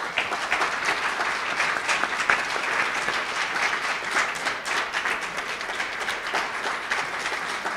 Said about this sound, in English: I'd love for us to give a round of applause for the Reckford family